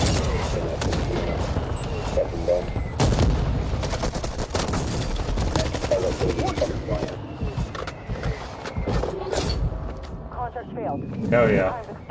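Sniper gunfire in a multiplayer shooter video game, sharp shots cracking out repeatedly over a busy, loud mix of game sounds while players talk excitedly throughout.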